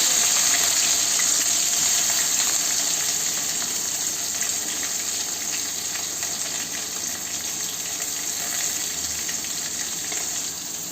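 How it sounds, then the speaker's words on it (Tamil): Crushed onions dropped into hot oil for a chicken gravy, a loud, dense frying hiss that starts strong and eases slightly as it continues steadily, with no voices. "வெங்காயம் இடித்து வச்சுருக்கதை இதில் ஆட் பண்ணிக்கலாம்"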